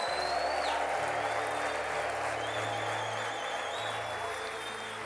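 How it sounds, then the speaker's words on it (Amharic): A crowd clapping steadily, sustained applause with a faint electronic tone and hum in the background. "አታጨበጭብም እልል አትልም ምስጋና ስጥ"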